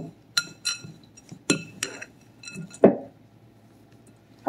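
Peanuts mixed with cream in a glass bowl give a run of sharp clinks and knocks at an uneven pace, close and fairly quiet, with short gaps of near silence between the strokes.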